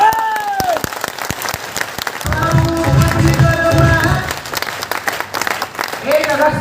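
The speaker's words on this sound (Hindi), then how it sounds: "हम चाहेंगे आप लोगों की शानदार, जितनी खतरनाक वाली तालियां हो सकती हैं उस सम्मानजनक लड़के के लिए हम तालियां बजवाना चाहेंगे" Seminar audience in Agra applauding a guest of honour, broad clapping and crowd noise running through the middle with a voice talking over it at the start and end.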